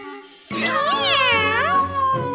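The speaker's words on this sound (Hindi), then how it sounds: "ये तो बिल्ली है। शायद इसे भूख लगी है।" A cartoon cat lets out one long, expressive meow with a rising and falling pitch, loud and close, heard alone without talk.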